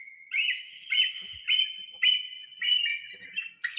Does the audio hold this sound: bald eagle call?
yes